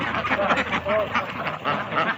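Ducks quack repeatedly while pecking at scattered paddy grain, short nasal calls in an uneven rhythm, fairly close, with someone talking over them.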